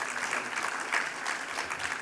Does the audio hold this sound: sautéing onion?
no